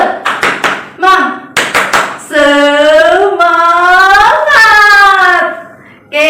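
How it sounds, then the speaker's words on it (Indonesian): Fifth-grade class doing a rhythmic spirit clap, a series of sharp claps in quick patterned groups, followed by children's voices chanting together loudly. "kita akan melakukan tepuk semangat supaya pembelajaran kita lebih semangat"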